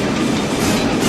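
A train in an Old West movie scene rumbles along in a continuous loud rolling roar, wheels clattering steadily on the rails with no voices.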